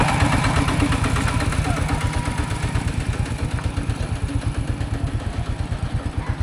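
A two-wheel walking tractor engine runs close by with a steady rapid chugging pulse throughout, loud and continuous, with faint voices in the background.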